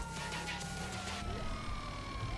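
A fire engine siren in the game GTA V Online wails with gliding, sweeping tones over a steady low engine-like rumble, fairly loud and continuous with no talk.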